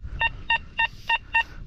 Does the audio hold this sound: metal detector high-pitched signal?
yes